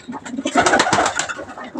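Pigeons coo softly in overlapping, throaty bursts, close by, with a steady low murmur of birds throughout.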